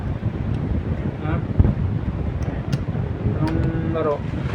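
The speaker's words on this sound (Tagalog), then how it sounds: "Lakas ng hangin." Steady blustery wind roaring against the microphone, with voices talking faintly underneath.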